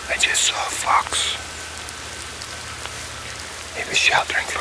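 Steady hiss of rain falling outdoors, with soft, brief voices near the start and again near the end.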